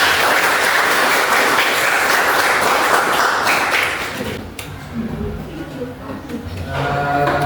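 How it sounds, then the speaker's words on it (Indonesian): Classroom applause for a student group's presentation, a dense burst of many hands clapping that fades after a few seconds into a teacher's voice talking. "Tepuk tangan untuk kelompok 4"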